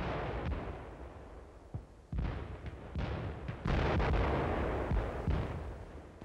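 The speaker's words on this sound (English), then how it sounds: "The mortar was used for the first time." World War I mortar fire heard as several heavy booming blasts with rumbling tails over a steady noisy background, coming close together and growing louder toward the middle.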